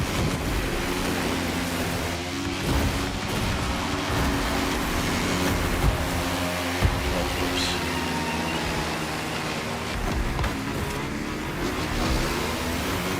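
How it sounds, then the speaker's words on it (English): Steady car engine drone from The Crew Motorfest racing game, a continuous loud rumble holding for the whole stretch with small surges and a few clunks, no talk over it. "This is where I get to listen to the car."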